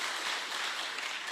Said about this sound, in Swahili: Huyu anaitwa Vincent Musyoka, mbunge wa kutoka Mwala, mpigeni makofi